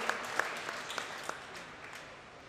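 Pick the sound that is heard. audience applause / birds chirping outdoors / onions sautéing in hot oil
audience applause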